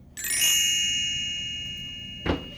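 A single bright, bell-like page-turn chime dings clearly and rings on, slowly fading, with a short soft thump just before it dies away.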